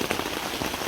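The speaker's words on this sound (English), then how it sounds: "when the rain falls on the tent, like it's so relaxing and it lulls you" Rain patters steadily on the fabric of a luxury hot tent during a rainstorm, a dense close-up drumming of drops with no voices.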